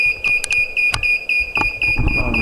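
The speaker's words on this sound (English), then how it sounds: "Sorry about the beeping, by the way." Repeated sharp electronic beeps from a battery test meter during a high-current impulse test on a CALB grey lithium cell drawing 1,500 amps, sounding in an uneven string over a steady background hum, with faint talk beneath.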